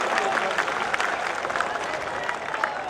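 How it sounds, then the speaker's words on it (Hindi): Crowd applause at a political election rally in Taranagar, broad steady clapping filling the whole stretch, loud and continuous with faint voices mixed in. "शानदार ताली बजाकर राजेंद्र सिंह जी राठौर का स्वागत करो।"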